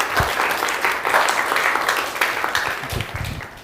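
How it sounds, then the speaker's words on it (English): Audience applause for a speaker at a Nerd Nite talk night in Fukuoka: steady, dense clapping from a room full of people, fairly close and sustained throughout with a few louder claps standing out near the end. "Please give a round of applause for the speaker."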